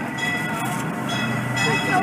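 Disneyland Railroad train running along its track, a steady close rumble and rolling rattle of the cars with faint clacking, continuous and fairly loud throughout.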